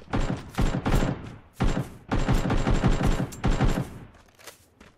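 Bursts of gunfire in the battle royale shooter Knives Out come in rapid volleys with short gaps between them, loud and clear with no talk over them.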